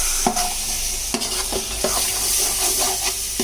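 Mutton biryani masala is stirred in a pot over heat, a continuous close sizzle broken by rhythmic scraping strokes of a spoon against the metal about every half second, with no talking.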